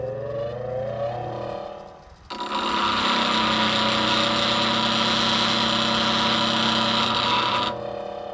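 A lathe turning tool being sharpened on a bench grinding wheel, with the motor running and a steady, loud, bright grinding hiss beginning a couple of seconds in and continuing for about five seconds before easing off.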